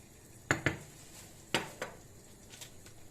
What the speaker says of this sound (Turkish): Üç kaşık nişastamı bir su bardağı sütle açıyorum.